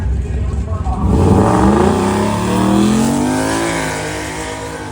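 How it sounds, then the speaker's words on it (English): A Ford Mustang race car launches on a drag pass, its engine roaring loud and close as the revs climb steeply through gear changes, with voices audible in the background. "All right, here goes the Mustang."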